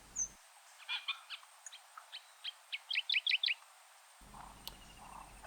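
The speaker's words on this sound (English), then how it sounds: "Listen carefully and you can hear the striated grass bird, a real icon of Pak-Phli." A striated grassbird sings a series of short, bright, repeated notes at Pak-Phli, Thailand, building into a quick rapid burst near the end, heard clearly against a quiet background.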